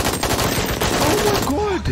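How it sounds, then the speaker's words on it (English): A rapid burst of gunfire crackles from a scene of The Boys TV series, loud and dense throughout, with a startled voice breaking in briefly near the end. "Oh, he did get shot."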